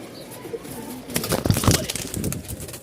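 Caged doves coo and stir in a Rajshahi bird-seller's cage, soft calls with a brief flutter building in the middle before settling, close by against a quiet background.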